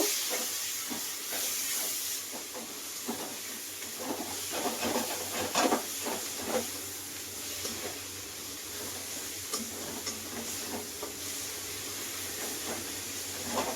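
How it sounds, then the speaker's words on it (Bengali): A spice paste for fish sautés in a pan with a steady, moderately faint hiss, with light scrapes and soft clicks of stirring scattered throughout. "এইভাবে পুরো মশলাটা খুব সুন্দর করে আমি কষিয়ে নেব"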